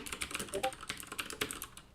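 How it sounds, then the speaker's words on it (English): Keys on a computer keyboard clatter in a fast, uneven run of close, crisp clicks and taps, heard alone without any talk. "I can just start typing."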